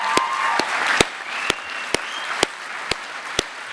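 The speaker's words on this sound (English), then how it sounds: "I think is worth a round of applause in itself" Audience at a brain injury charity awards ceremony applauding, a steady wash of clapping with sharper individual claps standing out at regular intervals.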